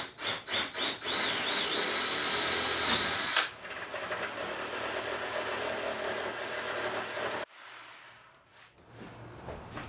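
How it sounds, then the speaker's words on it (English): A power drill bores pilot holes and a jigsaw cuts openings in wooden face panels for a side-mount Murphy bed, with loud drilling at first and then steady sawing, ending in fainter workshop noise. "Now I'm going to go ahead and pre-drill some pilot holes and use a jigsaw to cut them out."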